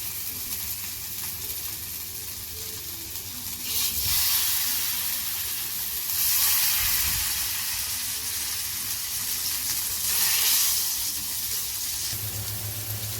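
Paneer pieces fry in hot oil on a tawa with a steady, close hissing sizzle that swells louder in several surges. No one speaks.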